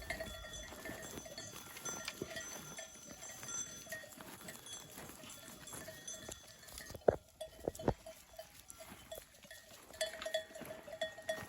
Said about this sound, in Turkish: Nohutlar koyunlar baya bir toparladı.